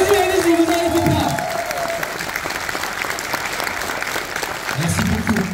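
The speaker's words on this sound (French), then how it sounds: "applaudissements s'il vous plaît, il va vous filmer" An audience at a hedgehog-themed convention applauds steadily, the clapping continuing throughout while a presenter talks over it at the start and again at the end.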